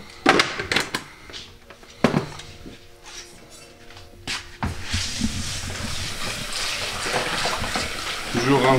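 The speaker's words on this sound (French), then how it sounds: "Toujours rincer le riz" Rice is rinsed under running tap water in a kitchen: a few sharp knocks and clatters of the pot at first, then a continuous close hiss of flowing water.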